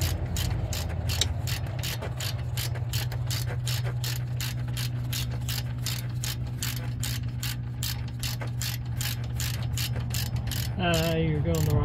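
A ratchet wrench clicks in a fast, steady stream of ticks during a brake job on a 2018 Toyota RAV4, loud and close, ending with a brief shift in sound near the finish.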